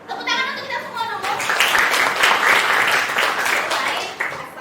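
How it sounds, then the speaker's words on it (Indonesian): Applause from a class of teachers and participants at a school session in Medan, a broad steady crowd clapping that rises quickly and sustains for several seconds, loud and close, with some voices mixed in. "Tepuk tangan untuk kita semua dulu."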